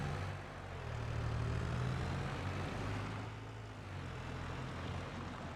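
A small Landini tractor engine from the Farming Simulator 22 game, pulling a mulcher, gives a steady low droning rumble with slight rises and falls in pitch, close and continuous with no talk.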